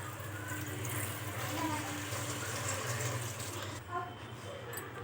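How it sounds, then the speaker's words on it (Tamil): Water poured into a pot of sambar with vegetables, a steady close gush that runs for a few seconds and then tapers off with a few drips. "தண்ணி விட்டுக்கோங்க."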